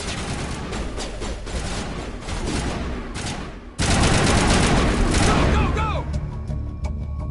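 Rapid gunfire from the video game Mass Effect rattles in loud, dense bursts, and after a brief dip it comes back even heavier, with automatic weapons and sharp impacts overlapping near the listener.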